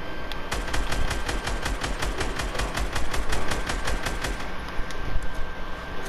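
Rapid automatic gunfire from the game Fortnite rattles in a steady burst of evenly spaced shots, loud and close, stopping abruptly before a short tail of softer game noise.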